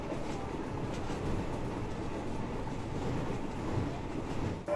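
A train runs along railway tracks in the documentary Railway Sleepers, producing a steady, loud rumbling roar with faint clatter throughout.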